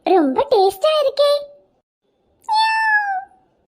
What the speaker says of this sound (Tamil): என்ன இந்த பக்கம் பூனை வர மாதிரி சத்தம் கேக்குதே?